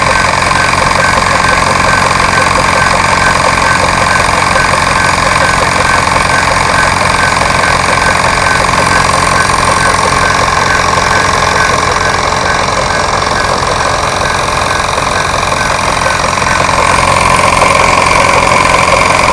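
Machinery in a model ship's engine room diorama runs steadily and loudly, a continuous mechanical hum with a rapid rhythmic knocking throughout, close and unbroken.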